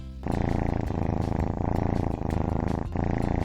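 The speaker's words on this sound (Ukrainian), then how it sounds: "Давайте послухаємо, як він мурчить." A steady, close cat purr with a rhythmic rumbling pulse, continuous and fairly loud, with no talking.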